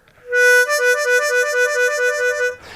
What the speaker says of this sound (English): So if we start with the 3-draw, 4-draw warble, it'll sound like this.